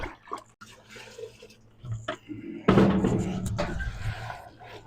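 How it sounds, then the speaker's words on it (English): A mineral is stirred by hand into water to dissolve it, producing faint sloshing and swishing with soft irregular splashes that grow louder and busier toward the end. "So I just stir this up good, make sure it's dissolved."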